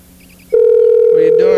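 Telephone call sounds: a faint electronic warble repeats three times, then a loud steady tone starts abruptly and holds, and a voice briefly joins near the end.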